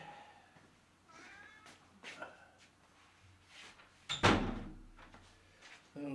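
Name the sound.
door being closed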